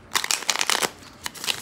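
Tarot cards are shuffled and drawn in quick, close riffling bursts of papery flutter and snaps, with no voice over them.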